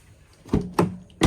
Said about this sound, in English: Every other door unlocks except for the driver's door.